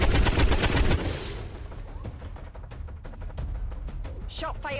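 Gunfire from the XCOM 2 video game: a dense burst of rapid shots in the opening second, followed by quieter scattered clicks and game sounds, with a voice talking over part of it.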